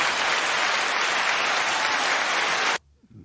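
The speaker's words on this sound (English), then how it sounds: "Our audience doesn't clap long" A studio audience at a podcast taping applauds in a full, dense burst that holds steady, then cuts off abruptly near the end into near silence.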